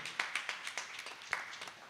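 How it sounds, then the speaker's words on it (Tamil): Scattered, quiet claps from an audience at a New Year debate programme, a handful of distinct hand claps in an uneven rhythm, faint and somewhat distant. "மீண்டும் அவருக்கு ஒரு நல்ல ஒரு கைத்தட்டலை கொடுக்கணும்"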